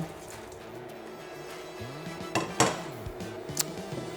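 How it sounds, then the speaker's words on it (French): Metal clatter and clinks of drained veal being tipped back into a saucepan for blanquette de veau, a few sharp knocks near the end, close by with a low hum beneath. "j'ai bien égoutté ma viande. Je la remets dans la casserole."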